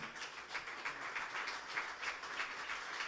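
Church congregation clapping in applause, a soft, fairly distant patter of many hands with slight rhythmic pulses, steady and low in level throughout.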